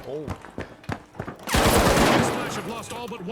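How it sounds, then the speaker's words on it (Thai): Gunfire in the video game The Finals: a few separate shots, then a dense rapid burst of automatic fire that trails off into scattered shots, loud and close. "เออยิงไปนั่นแหละอัดไป"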